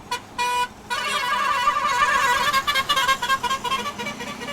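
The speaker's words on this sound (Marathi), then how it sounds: "हॉर्न बघा कसला खतरनाक वाजतोय." A loud, musical vehicle horn on a Rajasthan road blares right up close, with two short blasts and then a long run of shifting tones that breaks into rapid pulses.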